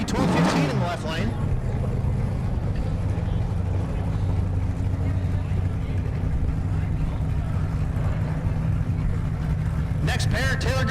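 A Camaro and a Mustang race side by side down a dragstrip, their engines a continuous low roar with a sharp burst at the start and another near the end, under an announcer speaking over a PA.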